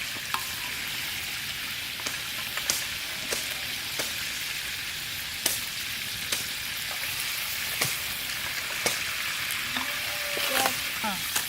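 Pieces of a huge swordfish, coated in turmeric powder, sizzle and crackle steadily in hot oil in a large pan, with occasional sharper pops and stirring clinks over a continuous frying hiss.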